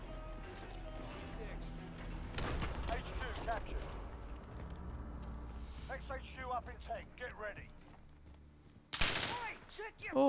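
Bursts of gunfire in a multiplayer shooter, a broadband crack around the middle and a sharp loud burst near the end, with game effects and voices in between.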